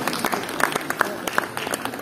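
Audience at a school annual day celebration applauds with steady, dense clapping that fills the whole stretch, close and fairly loud, with a crowd murmuring underneath.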